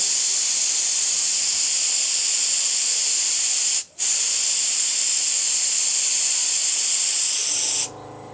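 Air shocks on a VW T3 bus release their pressure with a loud, continuous hiss that breaks off for a moment, resumes, then cuts out near the end.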